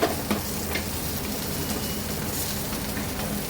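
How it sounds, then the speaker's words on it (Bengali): Pumpkin paratha frying in oil in a pan over lowered gas, a steady close sizzle with faint crackles throughout. "এবার দিয়ে দেব তেল, ভালো করে ভেজে নেব"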